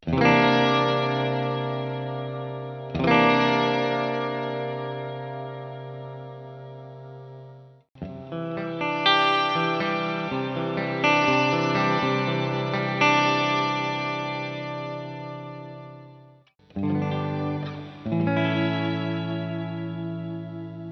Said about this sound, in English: So you get that like organy sound.